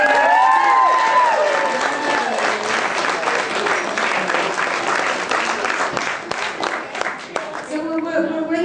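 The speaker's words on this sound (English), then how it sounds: "Another big cheer for all of us." Applause and cheers from a gathered crowd after speeches at an evening celebration, dense rolling clapping sustained for several seconds with a voice speaking over it near the start and end.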